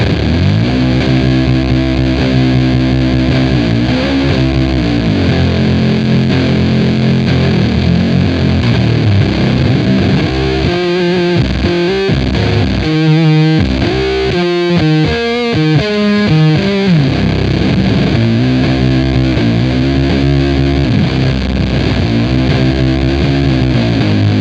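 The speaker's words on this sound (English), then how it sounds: "Now let's kick on the Hypercoven." Electric guitar through a Hypercoven pedal stacked into a Fuzzcoven fuzz pedal grinds out a loud, heavily distorted doom riff, with sustained chords broken by a choppy, stuttering passage midway.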